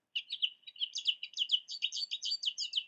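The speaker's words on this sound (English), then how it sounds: "This is a goldfinch in its summer plumage." An American goldfinch in summer plumage sings a continuous run of bright, twittering chirps and warbling notes, close and clear, filling nearly three seconds alone.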